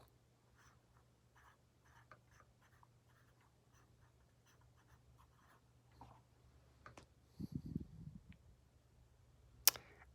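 A teacher writes on paper, producing a series of soft, scratchy pen strokes in short bursts, faint and close, followed by a few louder rustles and a sharp click near the end.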